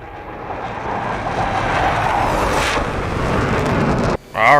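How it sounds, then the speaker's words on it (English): A jet aircraft in the combat flight simulator DCS World roars past in a rising, swelling rush of engine noise that cuts off abruptly near the end, followed by a brief voice. "Let's get one more flyby before we shoot."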